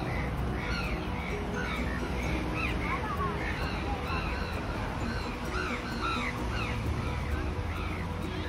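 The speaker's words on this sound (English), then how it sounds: "there is a lot of crow" Many crows caw repeatedly around a lakeside park in Myanmar, overlapping harsh calls from several birds near and far over steady outdoor background noise.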